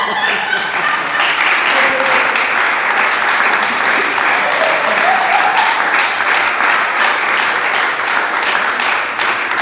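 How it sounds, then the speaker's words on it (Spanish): A church congregation claps and applauds at a service, a dense, sustained wash of hands from many people filling the room for the whole stretch, without pauses. "¿Cuánto le dan palmas al Señor?"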